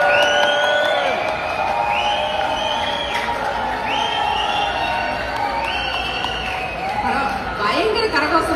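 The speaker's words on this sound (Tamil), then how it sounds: "பயங்கர கரகோஷமா இருக்குதே" A hall crowd cheers and shouts at a rally for Annamalai in America, with loud whoops and clapping throughout, while a voice talks over the noise nearby.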